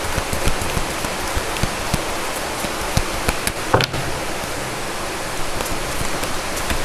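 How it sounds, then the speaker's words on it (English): Heavy rain pours steadily and loudly, a dense spatter of drops on hard surfaces with scattered sharper hits, continuous through the whole stretch with no one speaking. "Please don't mind the noise coming around. It's heavily raining here."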